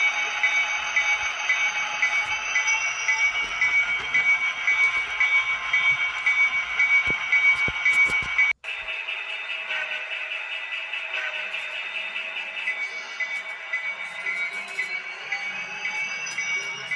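Freight train 22K heading eastbound after switching two industries near Hatfield: a steady, loud rumble with a high-pitched sustained whine and squeal, briefly cut off midway then resuming slightly quieter and continuous.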